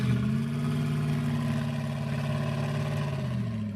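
Polo car engine in Roblox Driving Empire starting up and settling into a steady, loud mid-pitched hum with layered harmonics, continuous and alone with no talk.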